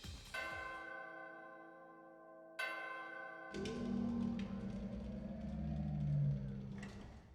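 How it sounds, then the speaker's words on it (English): Doorbell from the video game Danganronpa Another Episode: Ultra Despair Girls, two bell-like chime tones in clean succession with long ringing decay, then a louder, rumbling engine-like game sound. "Can I ring the bell?"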